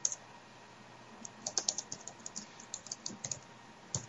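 A computer keyboard typing a forum reply: quiet, irregular clusters of keystroke clicks over a soft background hiss, with short pauses between bursts.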